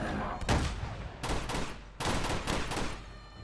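M4 rifle fire in the video game Uncharted: several bursts of rapid automatic shots, fairly faint and a little distant, separated by short pauses.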